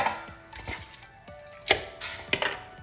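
Lengua kalitiran meat drops into a pan with a few sharp clatters and chopping-like knocks, two louder thuds standing out against a quiet kitchen background, with no talking.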